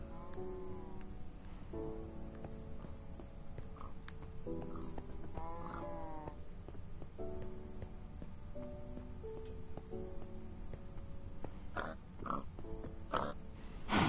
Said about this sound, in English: More pigs.